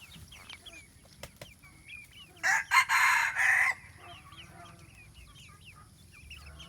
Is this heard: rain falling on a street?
no